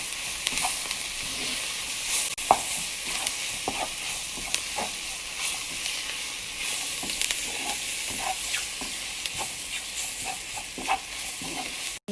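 Flour stirred into a hot frying pan for Salisbury steak gravy, a steady hiss and sizzle broken by repeated scrapes and taps of the utensil against the pan, moderately loud and without talk.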